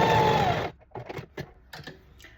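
A sewing machine stitches fabric for an angel gown in one loud, short whirring run that cuts off abruptly, followed by a few scattered clicks and taps.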